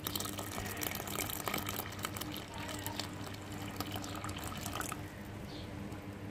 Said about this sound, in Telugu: మొత్తం పాలు పోసుకొని కలిదిప్పుతాను.